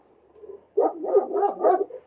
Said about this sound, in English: My dog's going to bark for a second.